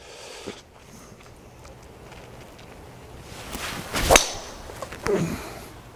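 A single sharp crack of a Mizuno ST190 golf driver striking a ball rings out against quiet outdoor background noise, followed by a fainter click.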